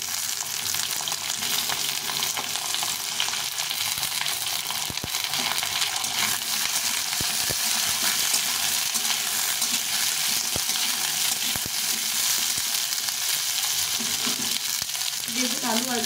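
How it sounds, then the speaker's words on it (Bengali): Carrot and potato pieces fry in a pan for a pumpkin dish, giving a steady, close hiss of sizzling oil with scattered stirring scrapes and clicks throughout, no voices. "গাজর আর আলুটা একটু ভেজে নেব"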